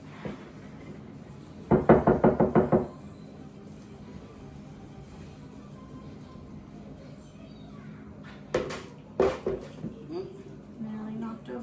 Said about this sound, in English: Nearly knocked over the lasagna.